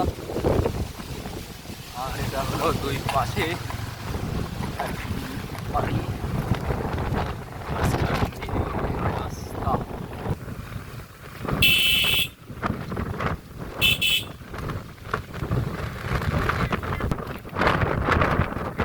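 Wind and rough waves at a river beach at Sonali Saikat, Hatgram, Bhangura, Pabna, in light rain: a continuous gusty roar buffeting the microphone under a voice, with brief high electronic tones midway.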